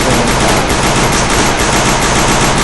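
Rapid automatic gunfire in the mobile shooter game Free Fire, a dense unbroken burst of shots that is very loud and fills the whole stretch, with no voices.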